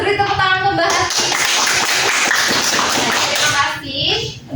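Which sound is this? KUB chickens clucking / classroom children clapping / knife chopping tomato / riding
classroom children clapping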